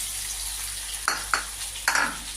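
Tomatoes and spices frying for a boal fish curry in a pan: a steady close sizzle broken by three or four sharp scrapes of a spatula against the pan.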